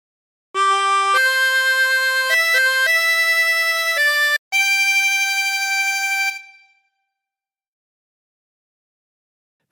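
A chromatic harmonica plays a phrase of Amazing Grace alone: a string of clear, reedy held notes with two brief breaks, ending on a long sustained tone that fades to silence.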